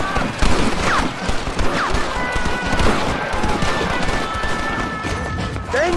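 Rapid gunfire crackles in the video game Red Dead Redemption, with dense overlapping shots and a few ricochet whines over a noisy battle scene.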